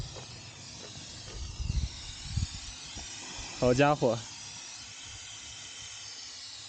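Steam hisses from the overheated radiator of a car whose engine boiled over on a 5000-metre mountain pass. A steady, close hiss continues throughout, and a man briefly exclaims over it.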